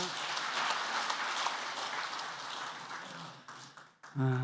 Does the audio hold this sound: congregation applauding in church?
yes